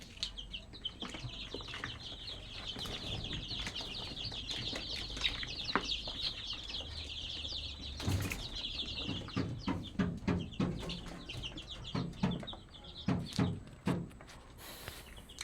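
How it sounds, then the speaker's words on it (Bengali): Sonali chickens on a poultry farm cluck and squawk nearby in a steady, busy chorus, with scattered wing flaps and scuffling throughout. "দেখো ওই মুরগিটা শব্দ করছে"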